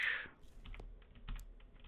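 Quick soft clicks of a computer keyboard and mouse during play of Lord of the Rings: Return to Moria, a few faint taps close by after a brief chime.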